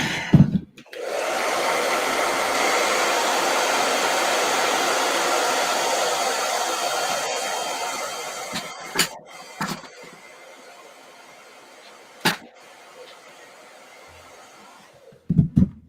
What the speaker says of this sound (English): Hit him with a blow dryer again.